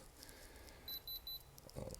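A watch crystal hardness tester, used on a Bertucci A2-T Super Sport (ref. 12065), gives three short, clear electronic beeps in quick succession, signalling a sapphire crystal, against quiet room noise followed by a soft handling knock.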